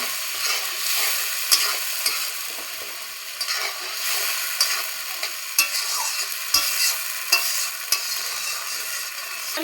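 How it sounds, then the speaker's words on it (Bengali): Spice paste (masala) sizzling in oil in a pan while a spoon stirs it, a steady bright frying hiss broken by frequent scraping and clinking strokes, close and continuous, with no talking. "মশলাটা ভালো করে একটু কষা নিব"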